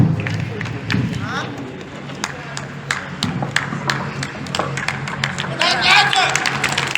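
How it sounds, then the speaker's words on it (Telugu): An audience at a state-level para-athletics event claps to welcome the president of a sports association, with scattered sharp hand claps and crowd noise over a loud voice talking throughout. "గట్టిగా చప్పట్లు మన ప్రెసిడెంట్ గారు వస్తున్నారు, సింగార బాబు."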